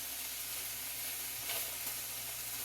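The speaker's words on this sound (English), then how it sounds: "Can you hear me over the sizzling?" Chicken pieces sizzle in a hot frying pan with a soft, even hiss that stays steady throughout and swells briefly midway, with no talking.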